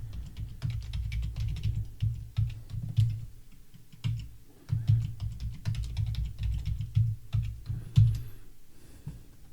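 Rapid typing on a computer keyboard while a password is entered: irregular bursts of close, soft key clicks and thumps with short pauses, no voices.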